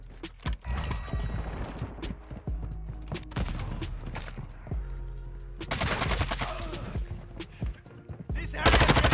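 Rapid bursts of automatic gunfire in the shooter game Modern Warfare 2 with a Vaznev 9K rifle, loud sharp shots and repeated volleys over several seconds, mixed with game effects and in-game voice callouts.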